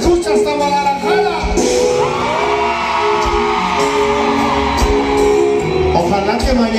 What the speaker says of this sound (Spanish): un grito que se escucha hasta Guadalajara